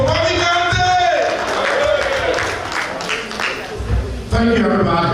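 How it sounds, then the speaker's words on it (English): An audience claps for a speaker at the National Bomi County Association ball in the USA. A loud voice carries over the applause throughout. "Give him a big hand clap for people."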